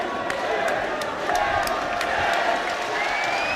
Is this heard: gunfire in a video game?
no